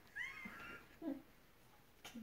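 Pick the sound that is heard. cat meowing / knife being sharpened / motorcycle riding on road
cat meowing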